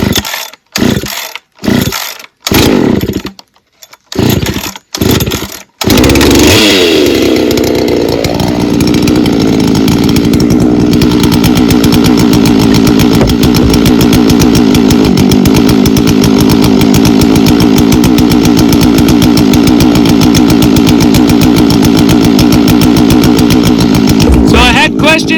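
A chainsaw cutting firewood in a snowstorm, starting with several sharp pull-start bursts, then revving up into a loud, sustained close engine roar that runs steadily to the end.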